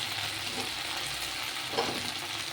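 Tomatoes go into half-cooked okra frying in a pan, a steady close sizzle with a short soft splash of added food partway through.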